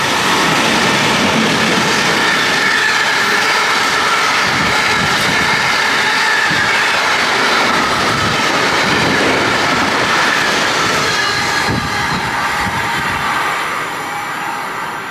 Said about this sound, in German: Der Zug hat mich gerade belästigt.